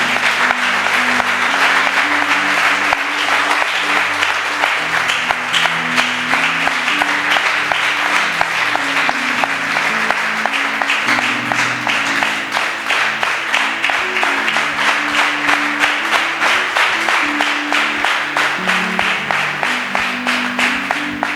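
Long, rhythmic group clapping from a church congregation acclaiming Jesus during a Sunday service, steady and loud for over twenty seconds, with instrumental music running underneath.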